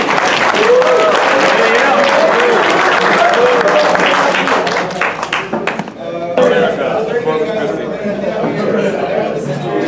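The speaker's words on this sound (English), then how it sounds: "Please give them a round of" A crowd at a wargame tournament claps loudly and steadily, with chatter and laughter mixed in, briefly dipping before the clapping picks back up.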